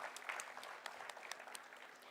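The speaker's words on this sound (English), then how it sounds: "A huge round of applause for our chief guest and his profound vision." An audience at an inaugural function for a hackathon grand finale applauds the chief guest, with dense, even clapping from a hall crowd holding steady throughout.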